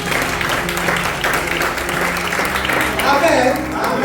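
Church congregation applauding during a service, a steady wash of clapping from many hands throughout, with voices mixed in under it.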